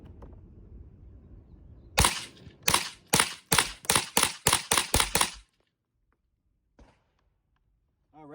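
A Rossi RS22 .22LR semi-automatic rifle fires Aguila rounds outdoors in a string of about ten sharp, loud cracks at a quick, slightly uneven pace, then falls silent.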